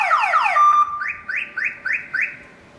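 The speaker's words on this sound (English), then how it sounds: "First press will disengage the siren" A Compustar 1WG2AM car alarm siren wails in a fast rising sweep, then settles into a series of four or five short, loud, repeating chirping pulses that fade at the end.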